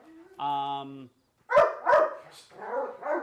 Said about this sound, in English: They are just dogs. They are happy dogs. They are Malinois mixes.